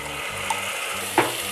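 Spice masala sautéing in a pan for Maharashtrian moong dal aamti, a steady close frying sizzle with a couple of sharp stirring scrapes, no voices.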